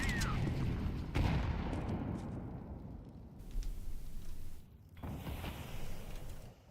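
A grenade blast in Counter-Strike 2 booms loudly, then a rolling rumble of gunfire and explosions carries on through the round, with a second heavy burst near the end.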